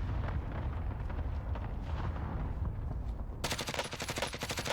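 Suppressed gunfire in Call of Duty Warzone: a steady run of muffled, rapid shots over loud game noise, switching near the end to a sharper, faster burst of close fire.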